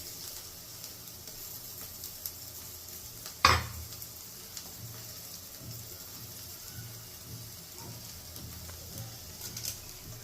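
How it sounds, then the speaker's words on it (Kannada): Garlic and ginger frying on a low flame for a Mangalore-style chicken curry, a soft steady sizzle broken once by a sharp metallic clank. "ಲೋ ಫ್ಲೇಮಲ್ಲೇ ಇಟ್ಕೊಂಡು ಫ್ರೈ ಮಾಡಬೇಕು."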